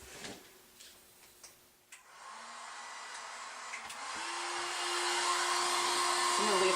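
Hot air tool warming the edges and sides of a clear resin pour over acrylic, a few clicks and handling knocks, then the blower switching on into a steady rising whoosh with a faint whine.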